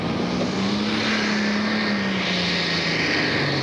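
A 7,500 lb super stock pulling tractor engine roars loud and continuous at a state fair pull, a dense steady drone whose pitch slowly sags across the run.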